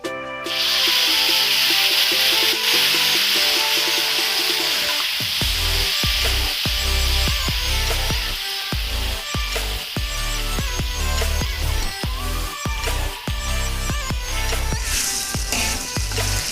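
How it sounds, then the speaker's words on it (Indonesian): Loud, continuous sizzling of Padang-style spice paste mixed with egg frying in hot oil, with a steady hiss and repeated scraping clatter of stirring throughout. "langsung kita goreng bumbu yang sudah dicampur dengan telur"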